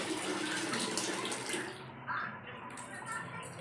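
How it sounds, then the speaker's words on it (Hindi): Water runs from a bathroom tap, a steady splashing gush that fills the whole stretch, with a brief change in the flow partway through and a voice murmuring faintly underneath. "बाथरूम में पानी खोल के छोड़ दी है"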